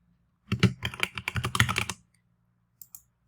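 A computer keyboard typed on at close range, one brisk burst of rapid key clicks lasting about a second and a half, then silence broken by two faint taps.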